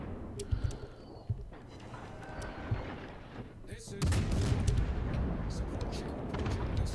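Naval gunfire from warships in the World of Warships video game: repeated deep booming shots with low rumble, growing louder and denser after a few seconds, with no voices.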